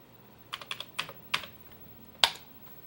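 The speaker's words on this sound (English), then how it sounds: "I'm going to type in Star Wars." Keystrokes on a Commodore computer keyboard while logging into a C-Base BBS, about seven distinct clicky taps in an uneven burst, then one sharper strike after a pause, close and clear over a quiet room.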